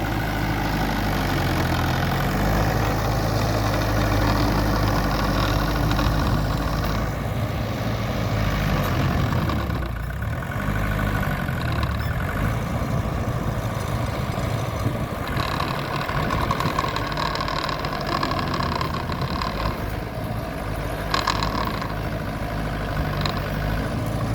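A Mahindra 575 DI tractor engine runs steadily at close range in a tapioca field, a loud, continuous diesel rumble with a rotavator attached and no speech over it.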